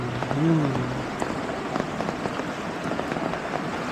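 Continuous rain pattering on surfaces next to a river slowly rising from unceasing downpour, a steady close hiss of drops, with a brief voice-like tone early on.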